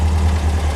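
An air-cooled VW 1800 engine with a power pulley idling on a hot day, a loud, steady, low throbbing rumble heard up close.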